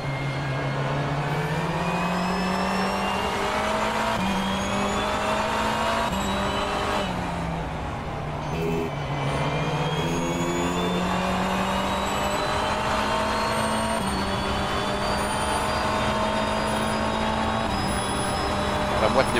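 BMW M V8 Hybrid LMDh race car in the rFactor 2 sim, its V8 engine droning loudly and steadily with rising and falling pitch through gear changes and a brief lift, running continuously alone.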